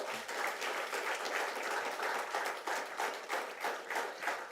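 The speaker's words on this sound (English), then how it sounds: "We will need another clap" A convocation crowd at IIT Madras in 2023 gives sustained, even applause, heard at a distance and fairly faint, with no speech over it.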